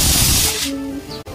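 A pressure cooker lets out a loud, close hissing whistle of steam that fades after about half a second into a fainter tonal whine, ending in a brief cutoff.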